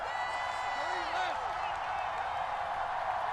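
Stadium crowd noise in the American football video game Madden NFL 24, a steady loud roar and cheering filling the background while a commentator-style voice speaks.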